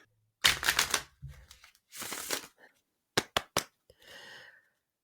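Crisp riffling bursts of cards being shuffled, several quick flurries separated by pauses, close and fairly loud with a soft voice in between.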